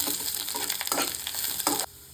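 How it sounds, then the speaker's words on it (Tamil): Chana dal, urad dal and dried chillies sizzle in a hot pan while being stirred for a banana flower fry, a steady close frying hiss broken by two scraping stir strokes before it cuts off abruptly. "கடலைப்பருப்பு, உளுத்தம்பருப்பு, காஞ்ச மிளகாய் சேர்த்து வதக்கிக்கலாம்."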